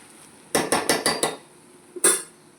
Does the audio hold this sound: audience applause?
no